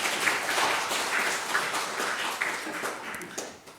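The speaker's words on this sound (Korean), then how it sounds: "우리 박수로 한번 따뜻하게 환영하도록 하겠습니다" A church congregation at a Sunday worship service claps in welcome for a returning member, a steady moderate round of applause that tapers off at the end.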